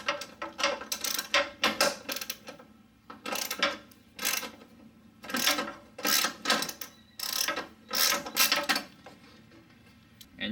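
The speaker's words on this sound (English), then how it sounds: "There's a 10mm bolt holding this bracket right here, and there's a 10 right there too." A hand ratchet works on the 10mm bolts of the 12V battery hold-down bracket on a 2007 Toyota Highlander Hybrid, giving repeated bursts of rapid metallic clicking close by with brief pauses between strokes and no speech.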